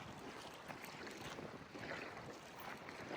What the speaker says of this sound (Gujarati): આટલો પ્યોર પવન મસ્ત.